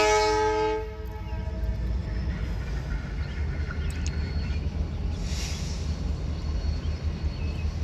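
A CSX freight train horn sounds loud and close at a crossing in Lima, Ohio, in a brief harmonic blast at the start, then the heavy rumble and clatter of the passing freight train continues steadily.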